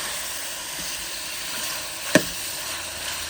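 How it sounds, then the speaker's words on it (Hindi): Chicken frying with garlic and onion in a cooking pot, a steady soft sizzle with one sharp clatter midway, close by and with no talking. "लहसुन प्याज डाल के चिकन को फ्राई कर रहे हैं पहले।"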